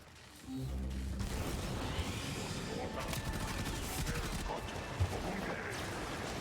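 Enemy gunfire in the video game Warframe, a dense continuous rattle of rapid shots and mechanical clatter lasting throughout at moderate loudness, with a few sharper bangs.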